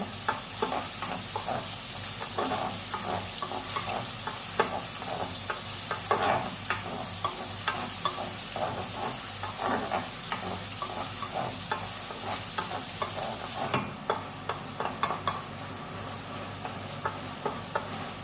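Bacon and onion fry in a pan and are stirred with a wooden spoon. A constant sizzle runs under frequent knocking scrapes of the spoon, close and alone, for the whole stretch.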